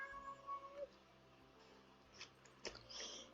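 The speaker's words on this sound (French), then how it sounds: "ce petit truc qui miaule à l'arrière" A small cat meows faintly in the background, a few brief cries near the start and toward the end over a low steady hum.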